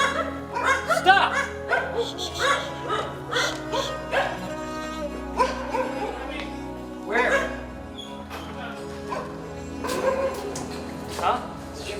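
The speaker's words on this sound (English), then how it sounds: "Did you see that? See those dogs?" Dogs bark and yip in short repeated bursts at moderate distance, mixed under steady talking voices.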